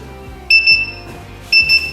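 A heat press timer, used while making tumblers, gives two short electronic beep bursts about a second apart, each a loud, close, high chirping double tone.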